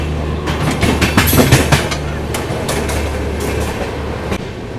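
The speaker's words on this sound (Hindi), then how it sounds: "यहाँ इस वक्त हम Rajendra Nagar terminal railway station को क्रॉस कर रहे हैं" Vikramshila Express running past Rajendra Nagar Terminal, heard from a crowded coach as a loud steady rumble with sharp rhythmic clacks of wheels over rail joints, busiest in the first two seconds.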